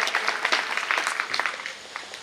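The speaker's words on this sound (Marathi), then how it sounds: "एकदा टाळ्या वाजवून त्यांचं स्वागत करूया" An audience claps steadily to welcome a performer at a temple programme, a dense, continuous patter of many hands at moderate loudness.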